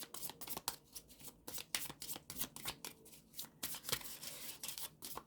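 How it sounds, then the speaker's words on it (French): Oracle cards riffled and shuffled by hand in quick bursts, crisp close flutters and soft slaps repeating in an uneven rhythm, quiet and without speech. "je vous tire une carte de l'oracle de la chamane"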